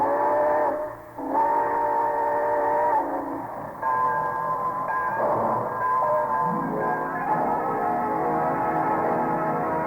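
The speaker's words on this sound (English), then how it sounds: "All aboard! Well, it looks as though we're ready to pull out." A train whistle sounds in long sustained harmonic blasts, with rolling rail noise building underneath as the train gets moving.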